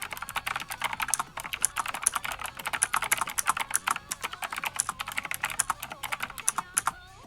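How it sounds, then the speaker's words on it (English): Rapid, loud clicking of a typewriter-style mechanical computer keyboard, keys struck in fast irregular bursts close up, with no voices. "it's a typewriter style keyboard. But this one's much louder."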